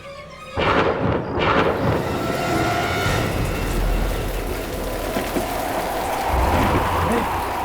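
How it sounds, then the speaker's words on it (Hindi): Sudden strong storm winds rush through a graveyard in a loud, broad roaring whoosh that starts abruptly and keeps gusting, with rumbles like distant thunder and no voices. "अचानक की हवाएं कैसे चल रही हैं? इतनी तेज हवा,"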